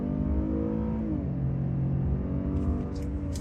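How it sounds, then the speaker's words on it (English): A 2022 Buick Enclave V6 SUV accelerates, heard from inside as a steady low engine drone and rumble whose tone climbs a little and then holds, with a few faint clicks near the end. "let's do a quick acceleration"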